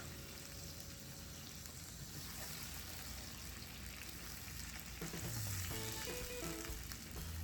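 Frozen sofrito cubes sizzle steadily in a hot pan, a dense continuous crackle throughout that swells slightly louder near the end with faint clinks.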